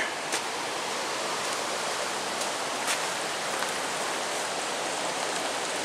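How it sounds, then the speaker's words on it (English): Prince Brook flows at a gravel-road crossing with a steady, dense watery hiss, close and even throughout, with no voices. "This is where the Prince Brook crossing is."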